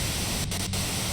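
Radio white noise from the Disco Elysium game, a steady broadband hiss filling the whole short stretch at moderate level, with two brief dips in the static partway through and no talk.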